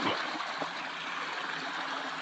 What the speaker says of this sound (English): The beginning of the trail here kind of follows along the creek.